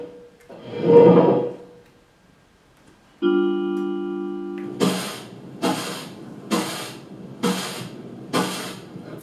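A broom sweeps a floor at home in five regular, brisk swishing strokes, preceded by a single scrape and a short steady tone.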